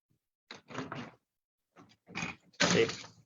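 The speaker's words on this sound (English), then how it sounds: "these big patio doors, I'll show you how they open up." Large patio doors in a house on a quiet creek in Tofino, BC being slid and pulled open, with several close rolling and thudding movements of mounting loudness that end in a louder sweep as the door swings wide.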